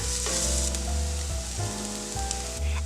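Finely chopped onion sautés in vegetable oil over low heat, giving a steady close sizzle with soft crackling that runs the whole time, with background music playing under it.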